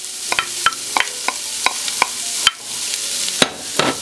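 Sliced onion, about 1.5 cups, cooking in a tablespoon of butter in a pot for vegetable soup, with a soft steady sizzle under a string of sharp spoon clicks and scrapes as it is stirred, close and clear, no talking.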